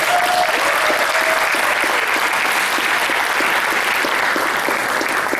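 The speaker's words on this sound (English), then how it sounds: "Give them a big round of applause." Audience applause at a school or community ceremony, a dense, loud, continuous wash of clapping from a large crowd, even and sustained throughout.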